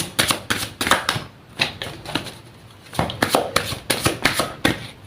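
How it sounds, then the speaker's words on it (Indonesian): Tarot cards shuffled by hand in quick bursts of crisp riffling and slapping, close and loud, with brief pauses between runs and no talk. "Langsung saja saya shuffle kartunya."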